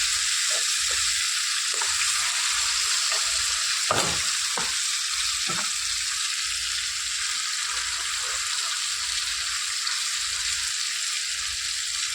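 Fish pieces fry in hot oil in a clay pot with a loud, steady sizzle, broken now and then by soft stirring knocks and pops.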